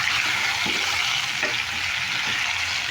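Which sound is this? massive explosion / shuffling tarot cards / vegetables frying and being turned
vegetables frying and being turned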